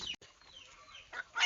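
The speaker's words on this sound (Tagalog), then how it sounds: "mga ibon natin kumakain na" Backyard chickens and breeder fowl feeding, with a few soft clucks and scattered pecking noises up close, rising into brief louder bursts near the end.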